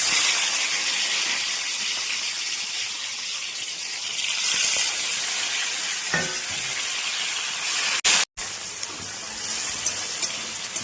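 Chopped tomato fries in a hot pan with a loud, steady sizzle and steamy hiss, stirred now and then, with a brief sharp clatter near the end.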